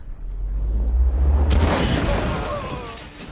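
A grenade goes off in the sci-fi video game Warhammer 40,000: Chaos Gate - Daemonhunters: a deep, loud boom with a rumbling, crackling tail that fades over a couple of seconds, preceded by a brief mechanical beeping.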